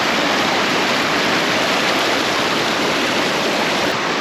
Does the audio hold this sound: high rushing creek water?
yes